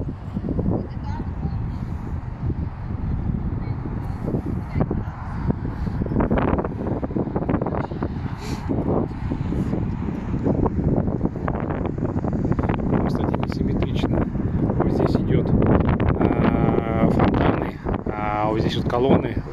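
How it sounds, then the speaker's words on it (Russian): Strong wind buffets the microphone on an open square at Poklonnaya Hill in Moscow, a loud continuous low rumble with gusty surges throughout, while people talk and laugh over it. "Ну и ветер тут гуляет."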